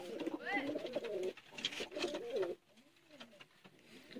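Sialkoti pigeons coo close by in repeated throaty, warbling rolls, several overlapping calls with quieter gaps between them.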